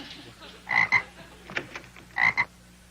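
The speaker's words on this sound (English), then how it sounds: "I found these 2 frogs swimming in the cement pond." Two frogs found swimming in a cement pond croak loudly and close by, in a few short double bursts separated by quieter gaps.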